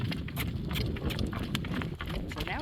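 Horse hooves clip-clop steadily on hard ground, close and busy, with faint background noise mixed in.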